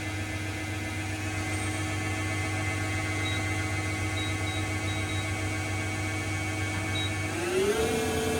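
A 2022 Southwestern Industries TRAK TRL 1630RX CNC lathe spindle runs at 500 RPM with a steady, loud machine hum and whine. Near the end the pitch shifts and rises as the speed changes.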